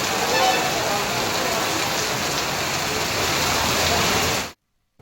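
Heavy rain falling on city streets in Telangana during a downpour that floods roads, a dense, steady hiss of rain on surfaces filling the scene for several seconds before an abrupt cut to silence.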